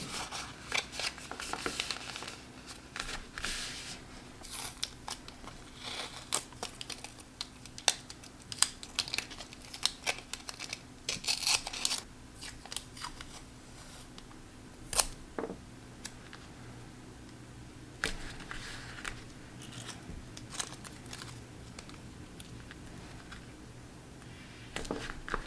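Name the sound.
folding paper letter and applying washi tape strips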